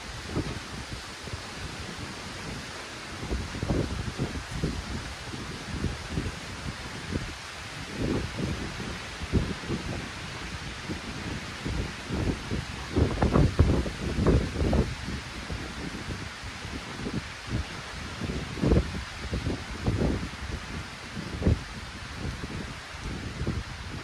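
Wind blows steadily outdoors on a cold evening, a continuous rushing roar with gusty rumbles buffeting the microphone, rising and falling in strength.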